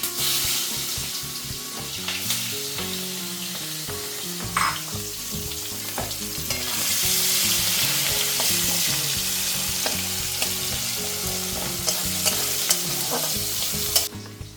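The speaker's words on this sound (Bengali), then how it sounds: "এগুলো আমি এখন ফোড়ন দিয়ে দিচ্ছি এবার পেঁয়াজগুলো এর মধ্যে দিয়ে দেবো" Onions sizzle and fry loudly in hot oil with tempered whole spices for chui jhal chicken, with steady stirring and scraping throughout and no talking.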